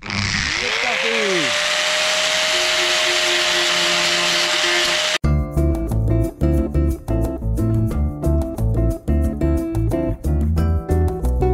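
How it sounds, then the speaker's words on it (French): An angle grinder cuts into a Scania truck spoiler: after a rising whine as the disc spins up, a loud harsh grinding follows in pulsing bursts. "Donc une fois que tu es en place, tu prends ta disqueuse."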